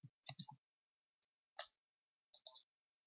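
Computer mouse clicks in the Game Maker editor, a quick cluster of crisp clicks followed by a single click and then a pair, close and quiet against silence.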